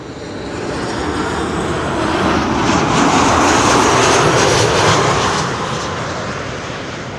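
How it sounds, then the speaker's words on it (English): A KLM airliner arriving from Glasgow at Schiphol airport produces a broad jet roar that builds, holds loud for several seconds and then gradually fades as it passes, with no voices. "This is KLM flight 936 arriving from Glasgow."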